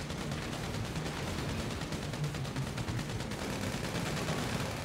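Continuous gunfire in GTA V Online rattles as a dense, even stream of rapid shots at moderate volume, with no pauses.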